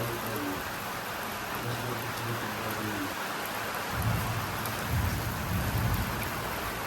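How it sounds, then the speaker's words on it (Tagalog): Heavy rain pours down on a rooftop in a dense, constant hiss, with low rumbling swells rising midway through; no voices. "Ayan na, lakas ng ulan. Bumuhos na talaga siya."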